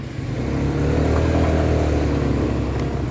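A car engine labours steadily up a steep uphill road at night, a continuous loud mid-range drone with a rising, revving strain that holds throughout, no voices over it.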